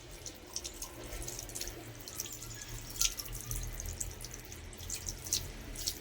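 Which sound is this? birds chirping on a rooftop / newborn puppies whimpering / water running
water running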